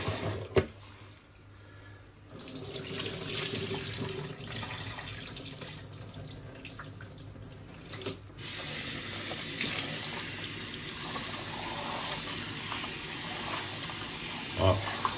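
White rice being rubbed and rinsed by hand under a running kitchen tap for a Réunion Creole rougail saucisson, a steady close water hiss and splash that runs throughout with brief pauses.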